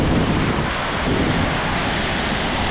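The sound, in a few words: Lake Michigan waves and wind in a windstorm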